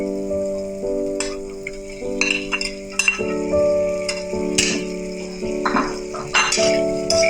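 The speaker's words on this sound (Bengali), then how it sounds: "এবার আমি যে হালকা আঁচে আমার বেগুনগুলো ভেজে রেখেছিলাম ওইগুলো আমি এবার অ্যাড করব" Fried brinjal tipped into a pan with spices and stirred: a soft sizzle runs throughout, with scattered clinks and scrapes of a spatula against the pan over a steady background tune.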